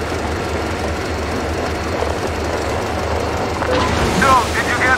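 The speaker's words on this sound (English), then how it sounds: "So, did you hear that rail car?" A rail car rumbles steadily past in the Metro Exodus video game, a low continuous drone that swells toward the end, where faint voices come in over it.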